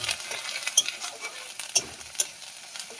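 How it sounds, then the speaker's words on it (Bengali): Onions sizzle and fry in hot oil in a pan for a Bengali koi fish curry, with a steady crackle and sharp stirring scrapes at irregular moments. "ভালো করে আমার পেঁয়াজটা ভাজা হয়ে গেছে।"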